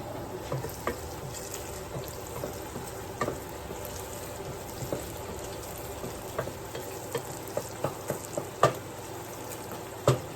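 Kale cooking in a hot pan, a continuous soft sizzle and frying with scattered pops and stirring clicks throughout.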